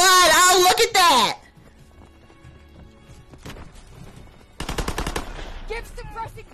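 Rapid machine gun bursts ring out in Call of Duty WWII multiplayer, loud and close, with a burst early and another near the end, and a player's voice talking over parts of the gunfire.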